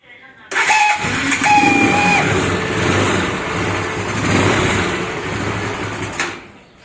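A Pulsar NS200 motorcycle with a coolant fault and its fan running directly cranks with a brief starter whine, then catches and holds a steady, close idle for several seconds before cutting off.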